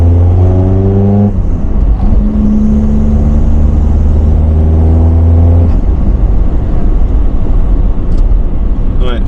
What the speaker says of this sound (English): Oh, wheel spinning in third.